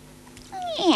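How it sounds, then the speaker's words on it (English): A cat lets out one short, rising meow near the end, fairly clear and close after a quiet, faintly murmuring lead-in. "Meow."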